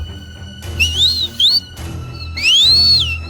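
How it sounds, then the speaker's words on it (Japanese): Hadza hunters whistle to each other across the open savanna, three rising-and-falling whistled calls with short gaps between them, clear and fairly close over a low background rumble. "ハッザベ族はこのように口笛でお互いの位置を確かめ合いながら獲物を追うみたいです"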